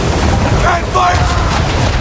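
Heavy ship cannons boom in a naval battle in Assassin's Creed 3, a deep rumbling blast amid wind and sea noise, with crew voices shouting over the din.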